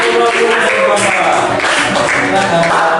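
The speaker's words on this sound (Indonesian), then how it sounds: "Sekali lagi tepuk tangan untuk" Classroom applause after group presentations, a loud, continuous patter of many hands clapping together, with voices mixed in underneath.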